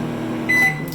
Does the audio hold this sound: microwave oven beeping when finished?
yes